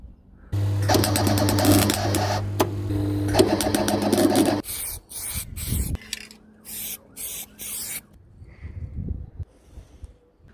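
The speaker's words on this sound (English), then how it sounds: "This is the next day and I'm welding up the holes." A MIG welder fills holes in a van roof with a harsh, crackling buzz in a long loud burst, then a second run, followed by shorter stop-start bursts and quieter scraping.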